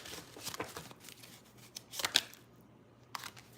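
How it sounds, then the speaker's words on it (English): A deck of cards is shuffled in quick riffling bursts, close and fairly quiet, with short pauses between the flurries. "One more shuffle."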